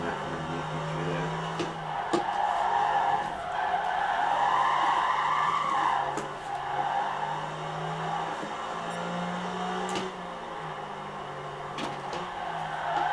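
A Nissan 370Z in Gran Turismo skids with sustained tyre squeal that wavers in pitch over a droning engine, swelling and easing through corners for several seconds.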